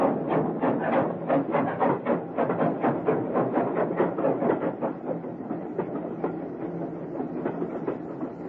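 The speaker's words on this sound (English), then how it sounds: "As the train sped out of Paddington" A train speeds out of Paddington station in London, its wheels beating a fast, even clickety-clack rhythm with a rushing roar that stays close and fairly loud, then slowly thins as it pulls away; no voices.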